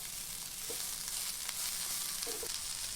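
Garlic fries in hot oil with a continuous, even sizzling hiss and a couple of faint soft knocks, close by and alone.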